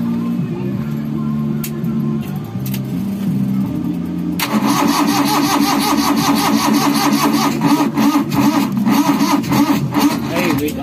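A Suzuki Multicab with an F6A engine cranks with a starter whine and then catches about four seconds in, settling into a loud, close, steady running rumble.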